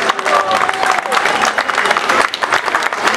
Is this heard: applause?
yes